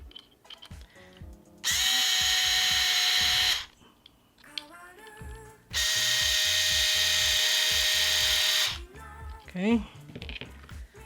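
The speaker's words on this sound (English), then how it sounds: "I'll get my little trusty power tool." A small handheld power drill drives screws into a Smart Doll Cortex Mirai doll frame, whirring loudly in two steady bursts of a few seconds each, with quiet handling clicks and brief talk between them.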